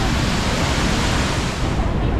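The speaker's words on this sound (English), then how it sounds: "So we just realized, hey, there's a waterfall." A Yosemite waterfall roars as a steady, loud, broadband rush of falling water heard from nearby, filling the whole moment with no voices.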